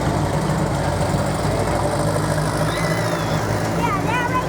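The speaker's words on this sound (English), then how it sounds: "and a blue Ford pickup" Blue Ford pickup engine rumbling steadily at an antique car and tractor parade at the West Virginia Strawberry Festival, a low continuous drone with crowd noise and voices throughout.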